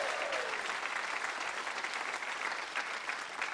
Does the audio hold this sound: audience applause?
yes